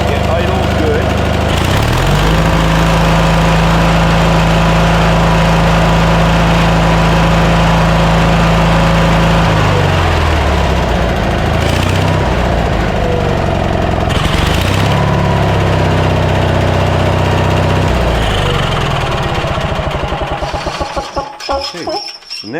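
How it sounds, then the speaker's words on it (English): Kohler small engine on a machine running after its bent governor rod was straightened and the stopper bolt cut off: a loud, steady low drone with shifting pitch, settling as speed changes, someone talking over it at times. "I straightened this a little bit, and I cut off the stopper bolt, and now we got better. Get idle good."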